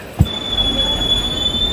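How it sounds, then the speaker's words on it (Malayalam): A passenger train in Kerala beginning to move, a brief clunk at the start followed by a continuous low rumble and a thin high squeal of wheels on rails. "നമ്മൾ ട്രെയിൻ അങ്ങനെ മൂവ് ചെയ്ത് തുടങ്ങി"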